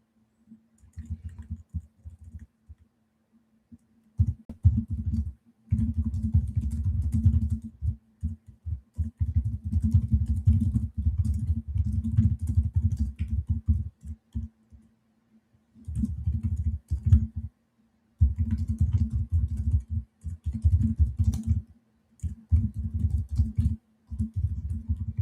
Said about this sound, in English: Sorry, lots of typing today.